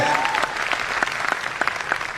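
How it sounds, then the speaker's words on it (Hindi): Audience applause at a Modicare network marketing seminar in India, a brisk burst of many hands clapping with distinct sharp claps standing out, moderately close and lasting a couple of seconds. "तालियां होनी चाहिए कि नहीं होनी चाहिए?"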